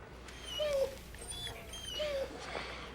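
A dog whimpers in high, thin whines, two drawn-out cries with softer yips in between, close by and fairly quiet over a low room hum.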